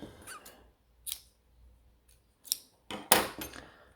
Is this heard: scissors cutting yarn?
yes